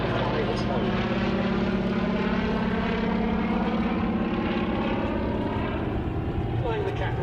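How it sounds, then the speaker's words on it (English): A Consolidated Catalina propeller flying boat drones overhead at an RAF Duxford airshow, its piston engines a loud, steady roar with a wavering pitch, lasting throughout with no break. "Flying the Catalina for us today"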